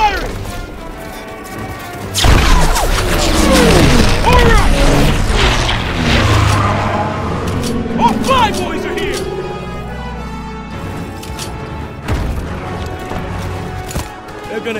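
Dense, loud gunfire and heavy impacts on a World War II battlefield in Call of Duty WWII, continuing over many seconds with booms and crashes while voices shout over the noise.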